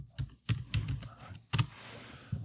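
A few quick keystrokes on a computer keyboard, close and fairly soft, come in short clustered taps with brief gaps between them.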